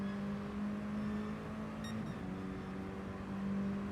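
Mini Cooper racing cars in Gran Turismo drone steadily around Suzuka East, a continuous engine hum with a brief high electronic blip midway and no talking.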